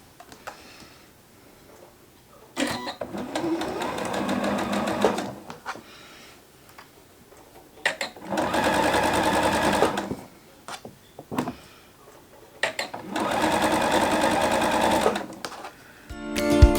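A sewing machine stitches jelly roll quilt strips in three steady runs of rapid mechanical ticking and whirring, separated by short pauses with small clicks and handling noises.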